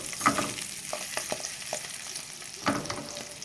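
Fresh Polish sausage fries in a pan for Easter, a soft steady sizzle with a few sharper pops and utensil clicks, fairly quiet and close, with no talking.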